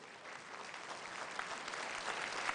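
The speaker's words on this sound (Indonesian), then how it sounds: "kita tepuk tangan untuk jawaban Paslon 2, Paslon 3 dan juga masyarakat transportasi" Studio audience applause during a televised Jakarta gubernatorial election debate, a steady moderately faint wash of many hands clapping, gradually swelling.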